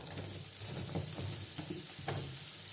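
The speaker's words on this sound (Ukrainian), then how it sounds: "І так, обсмажувати я буду на маслі." Onion frying in butter makes a soft, quiet sizzle with faint stirring taps and scrapes close by in a pan.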